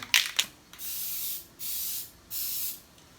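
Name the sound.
spray paint being sprayed, third coat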